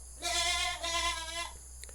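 A goat being let into a vegetable garden gives one long wavering bleat, fairly close and alone, followed by quiet outdoor background.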